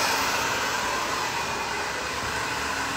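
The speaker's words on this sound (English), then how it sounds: "I'm gonna turn the blow dryer down a little bit" A blow dryer blows on a short pixie haircut in a continuous loud, close whoosh that holds steady throughout, with no talking.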